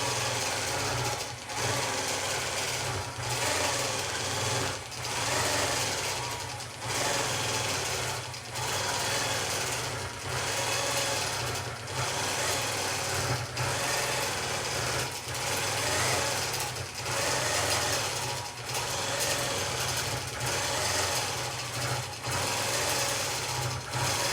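A sewing machine quilts continuous curves across a quilt, running in a fast steady stitching hum broken every second or two by brief pauses, close and even in level throughout.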